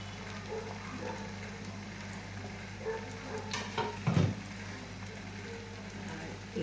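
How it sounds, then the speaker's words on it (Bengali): Beaten egg poured into hot oil in a pan while cooking stuffed pointed gourd, giving a continuous crackling sizzle with a few louder bursts as the egg hits the oil. "এবার আমি ডিম এই যে ফেটিয়ে রেখেছি, এই যে দিয়ে দিচ্ছি, একটু ঢেলে দিচ্ছি।"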